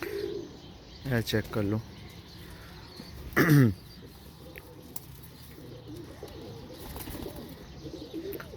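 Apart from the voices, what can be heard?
teddy pigeons cooing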